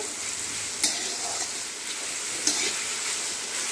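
Onions sauté in a large kadai for chicken yakhni pulao, giving a steady, moderate sizzle broken by two sharp scrapes of a stirring spoon against the pan.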